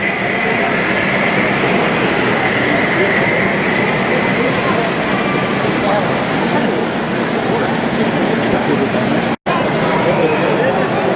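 Two trains in the video game SuperTrain rumble past in a loud, continuous roar with rolling wheel noise, steady throughout except for one sharp momentary dropout near the end.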